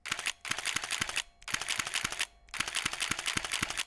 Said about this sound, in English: if I change this, you can hear the shutter